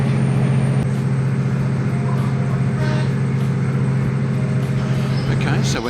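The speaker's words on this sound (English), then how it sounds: "we're now in the panoramic carriage of this train" Steady low rumble and rolling hum of a passenger train travelling through Indonesia, heard from inside a panoramic carriage, continuous and fairly loud with faint rattles over it.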